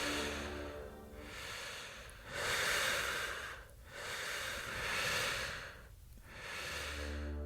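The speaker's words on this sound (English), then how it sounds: "not whistles, breathing, hundreds of breaths, slow, patient" Slow, heavy breathing rises and falls in long hissing waves, close and unhurried, with no voices.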